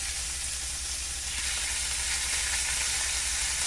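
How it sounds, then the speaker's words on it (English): Bacon crisping in hot bacon grease on a griddle, a dense, continuous sizzle and crackle that holds steady and close throughout with no voices. "So I've got some bacon grease here on the griddle, and then gonna make it crispy."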